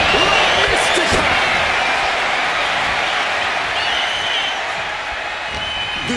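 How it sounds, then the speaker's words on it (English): Roaring arena crowd in the WWE 2K wrestling video game during a Royal Rumble, a dense, steady wash of cheering and applause, loud and continuous with no gaps. "this crowd is loving it, Not an empty seat in the house, and everybody is on their feet now"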